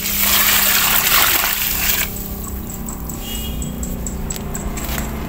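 Liquid fertilizer for grapevines pours in a loud, steady stream, a bright rushing splash at first that settles into a lower, continuous trickle.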